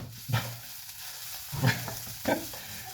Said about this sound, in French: les oignons sont prêts, je coupe, je verse, je finis les oignons, je verse, je mélange